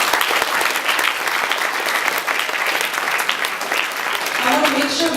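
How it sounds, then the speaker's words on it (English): A room full of people at a student panel gives a steady, loud round of applause that holds evenly throughout, with some talking mixed into the clapping. "Let's give a round of applause for everyone"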